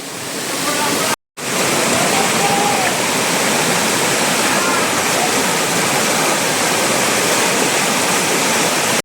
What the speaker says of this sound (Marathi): गावात ना भारी धबधबा आहे